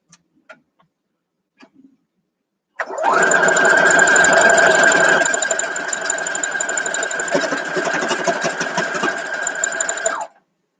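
Sewing machine running steadily for several seconds as it stitches a quarter-inch seam on a vintage-style farm girl quilt block, loud and close after a few faint clicks.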